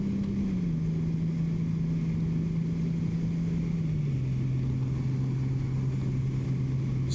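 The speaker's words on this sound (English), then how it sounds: "You can hear the big engine just roaring." A 2025 Honda Goldwing motorcycle engine drones steadily while riding in fourth gear, a constant low hum with a slight drop in pitch, alongside rushing wind noise.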